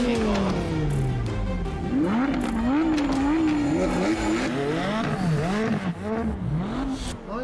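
A 560-horsepower lightweight McLaren launches in a drag race, its exhaust wailing loudly through rising and falling gear-change sweeps, with distant tire squeal and some crowd or commentary noise beneath.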